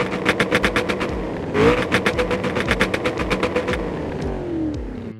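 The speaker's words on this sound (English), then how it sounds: "The supercharged V8 delivers brutal acceleration and an incredible exhaust note" A supercharged V8 Mustang GT500 in BeamNG, its exhaust pulsing through rapid upshifts, each gear a rising burst of revs, with one sharp rev flare midway and a smoother pull trailing off at the end.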